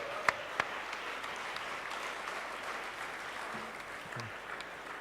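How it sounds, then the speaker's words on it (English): Faint, distant applause from an audience at a design-competition finale, thin and steady, with a couple of sharper nearby claps at the start and a brief low voice near the end. "Another applause for the jury, please."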